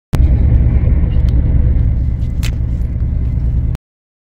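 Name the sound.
UK cross-country train running at speed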